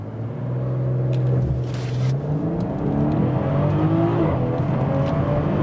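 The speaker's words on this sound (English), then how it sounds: "So, and here we go. We can accelerate to 45 mph." A luxury all-wheel-drive SUV launches hard from a standstill, its engine roaring loud and close inside the cabin with a steadily climbing note that dips briefly at a gear change before rising again.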